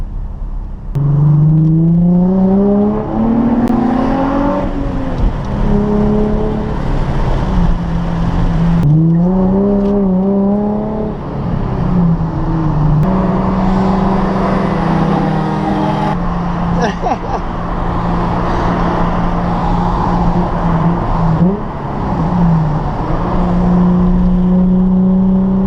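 A Ferrari F430 and a Nissan 350z rev their engines, loud and close, with the pitch rising and falling in repeated surges before settling into a sustained high idle.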